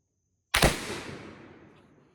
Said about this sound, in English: Do you hear that cap going off just a split moment before the whole charge goes?